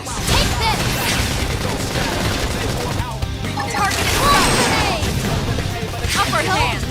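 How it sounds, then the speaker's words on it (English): A Targeted Grenade attack bursts amid dense combat in Xenoblade Chronicles X, with loud, continuous blasts, crashes and rapid firing that swell and fade, overlaid by voices shouting during the fight. "Targeted Grenade!"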